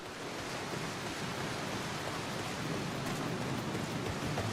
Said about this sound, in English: This rain be heavy though.